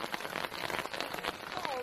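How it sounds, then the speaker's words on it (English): Hail pattering onto an umbrella and a campsite beside a campfire in Lower Glenelg National Park, a dense steady patter of small impacts with people talking over it. "all this hail is actually still falling"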